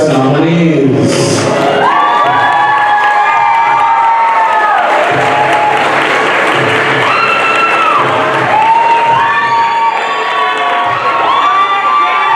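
Loud crowd cheering and applause for prom nominees, with children and teens shouting and whooping over sustained clapping, while a voice speaks through the noise.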